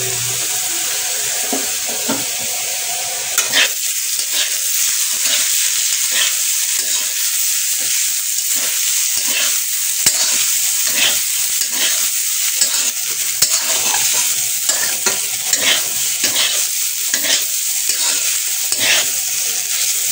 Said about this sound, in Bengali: আলু ভাজছি, সাদা আলু ভাজা করছি